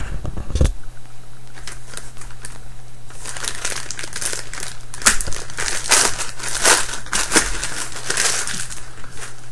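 Plastic packaging is cut and pulled off a Pearl Demon Drive double drum pedal, loud close crinkling and crackling with snipping sounds, mostly continuous.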